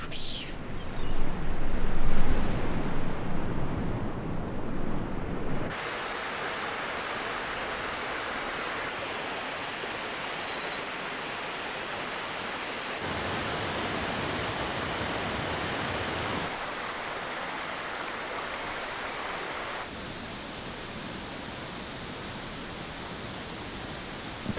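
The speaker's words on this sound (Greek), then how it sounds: "Κλείνεις τα μάτια και ακούς το νερό." Waterfall on Samothraki, its water rushing in a steady, dense broadband roar that stays loud throughout, with a heavier, louder surge in the opening seconds before settling into an even, continuous wash.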